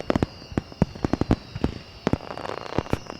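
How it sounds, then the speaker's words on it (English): Rapid village fireworks bursting one after another, sharp cracking bangs in an irregular, fairly close string with a faint whistling tone running underneath. "The village is starting their fireworks."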